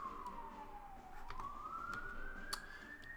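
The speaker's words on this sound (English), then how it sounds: "sorry if you guys can hear that siren as well" An emergency vehicle siren wails outside, carried in through an open balcony door on a hot day, a steady sweeping tone that dips and then climbs again, moderately distant and continuous throughout.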